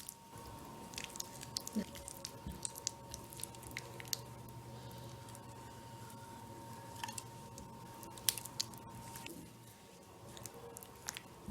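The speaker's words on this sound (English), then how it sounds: "we mix in everything like these so that Nutella and our cream cheese will combine together" Cream cheese and Nutella cream being mixed together in a bowl, soft faint squishing and sticky smacking strokes with scattered light clicks, close and quiet with no talking.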